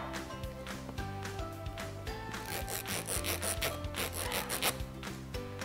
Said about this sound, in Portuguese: Esse é o reco-reco.